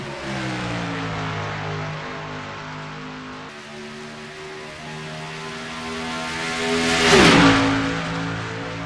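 Simulated race cars at Homestead in a sim racing game roar down the back straightaway, several engine notes layered and shifting pitch, with one car sweeping loudly past near the end.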